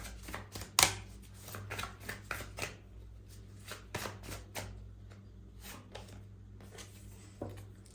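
Tarot cards being shuffled during a reading, a quiet run of soft riffling flicks and papery slaps with a sharper snap near the start, spread unevenly across the clip with no talking.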